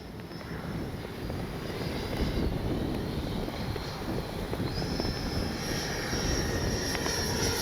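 An FMS 80mm F-86 RC jet makes a gear pass, its steady ducted-fan whine and rush holding loud and even throughout, with a higher tone rising toward the end as it passes close.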